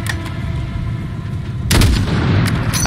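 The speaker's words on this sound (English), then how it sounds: "Rodanya kita tembak 3 roda ya." Gunshots aimed at vehicle tires on a highway in Call of Duty: Modern Warfare, a muffled background rumble broken by a heavy, booming shot followed by a sharper crack, both loud and close.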